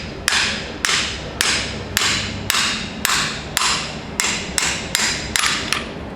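A hammer strikes a 21 mm spark plug socket to seat a vacuum pump seal on a Cummins engine, about ten sharp, loud metallic blows in a steady, even rhythm.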